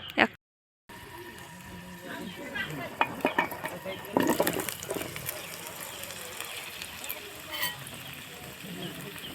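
Vegetables are stirred in a frying pan with mustard oil, the spatula scraping and clacking in irregular bursts over a soft sizzle, after a brief silent gap at the start.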